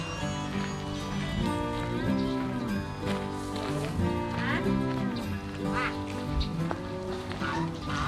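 Many ducks quack in a dense, continuous chorus on a laying-duck farm, loud and close, with overlapping calls throughout and some background voices.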